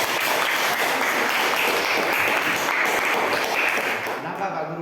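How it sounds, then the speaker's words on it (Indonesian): A classroom of pupils claps for group 2 after their teacher's marking, a sustained burst of applause that thins out near the end, with voices mixed into the clapping. "Tepuk tangan untuk kelompok 2."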